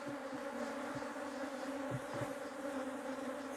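Honey bees buzz around an open hive during a swarm split, a steady, close droning hum with a few brief louder passes, no talking.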